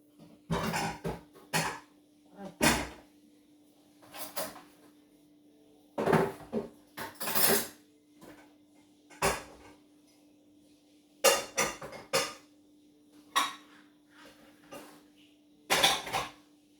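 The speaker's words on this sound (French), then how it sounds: "Alors ça, c'est le verre que je viens de boire. Je vais le mettre sur l'évier." Glass and crockery clinks at a kitchen sink as a drinking glass is set down, a series of sharp, separate knocks and clatters spread across the stretch, fairly close and alone with no talk.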